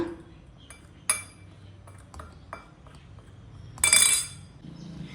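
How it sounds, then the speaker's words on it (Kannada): Potato pieces being mixed with turmeric powder in a bowl, with a spoon clinking against the dish in scattered knocks and a louder scraping, rattling stretch near the end, no talking. "ಈಗ ನೋಡಿ ಚೆನ್ನಾಗಿ ಮಿಕ್ಸ್ ಮಾಡ್ಕೊಳ್ಳೋಣ."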